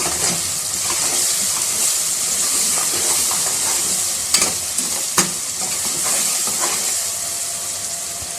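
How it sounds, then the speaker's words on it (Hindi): Masala of dry red chilli powder, salt, turmeric and cumin sizzling in a pan for daal mash, a loud continuous hissing fry with a few sharp spits and stirring clatters, no voices. "अभी ये चूँकि हम मसाला भून रहे हैं"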